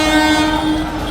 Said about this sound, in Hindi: ट्रेन का ड्राइवर भी यहाँ की हकीकत समझता है, इसलिए रफ्तार कम करता है और दूर से ही हॉर्न देना शुरू कर देता है